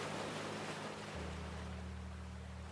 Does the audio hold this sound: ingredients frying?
no